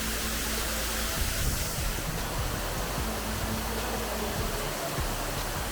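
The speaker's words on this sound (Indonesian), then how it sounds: "suara gemericik air di kuping saya benar-benar memesona ya" Steady rushing water from a waterfall in Carangsari village, Bali, a dense, constant hiss of falling and splashing water that fills the scene without pause.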